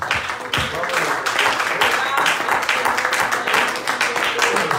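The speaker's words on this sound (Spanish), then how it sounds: "Vamos a darle una ofrenda de aplausos." A church congregation gives a dense round of applause as an offering during a worship service, with voices calling out over the sustained clapping.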